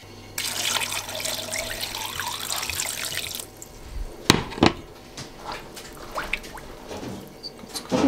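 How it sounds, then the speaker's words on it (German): Water runs from a kitchen tap into a cooking pot for about three seconds in a steady, bright rush, followed by quieter clinks, drips and handling sounds nearby. "Gebe da jetzt noch Wasser dazu, noch ein bisschen mehr."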